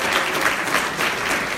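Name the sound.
audience applause at a luncheon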